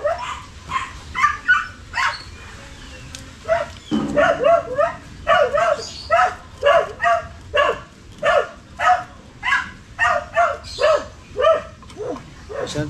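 A dog barks repeatedly at a passing cat, sharp rhythmic barks in quick bursts that continue steadily and fairly close throughout, with a brief low rumble near the start.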